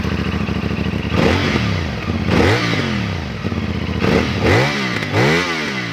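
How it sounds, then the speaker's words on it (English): CFMOTO 450SS motorcycle, 2024 model, with a 449cc parallel-twin engine, 270-degree crank and stock exhaust, revved hard several times in quick rising-and-falling sweeps over a steady idle, loud and close. "The engine in this thing is a 449cc parallel twin with a 270-degree crank, which means it sounds pretty awesome even with this big stock pipe."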